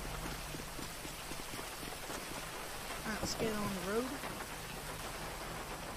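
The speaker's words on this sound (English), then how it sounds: "It's raining out there." Rain falls steadily in a Grand Theft Auto V roleplay session, a soft continuous hiss on surfaces at low level beneath someone speaking briefly, with a short tonal chirping sound midway.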